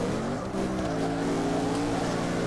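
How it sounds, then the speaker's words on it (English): A car in CarX Drift Online revs hard as its tires spin, a loud, sustained engine drone with rising pitch and tire squeal underneath, continuous and close. "at least we can spin tires right off the bat"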